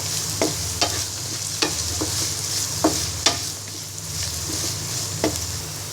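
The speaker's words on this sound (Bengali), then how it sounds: "এবার আধা কাপ পরিমাণ রসুন কুচি দিয়ে দিব চারটে কাঁচামরিচ ফালি দিয়ে দিব এবার ব্রাউন কালার করে ভেজে নিব" Chopped garlic and slit green chillies frying in a pan, a steady sizzle under a low hum, punctuated by several crisp spatula scrapes and taps spaced a second or so apart.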